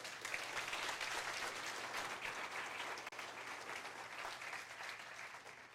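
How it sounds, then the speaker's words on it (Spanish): A church congregation claps together at a Spanish-language worship service, a sustained, fairly distant roll of applause with a faint steady hum beneath and one brief dip partway through. "Dale un aplauso al Señor"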